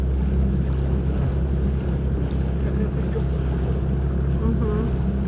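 A boat fitted with a Sea Pro outboard motor runs at slow speed on a river, its low steady engine drone continuous and close, mixed with wind noise on the microphone.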